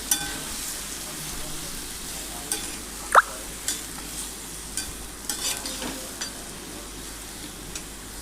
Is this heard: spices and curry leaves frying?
yes